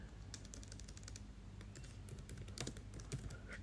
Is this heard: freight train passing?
no